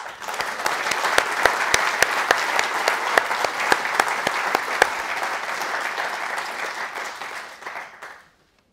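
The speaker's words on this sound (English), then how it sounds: "how about we give a little applause for him?" A conference audience at a firefighting workshop bursts into warm, sustained clapping that stays steady for several seconds, then tapers off and stops, with no voices over it.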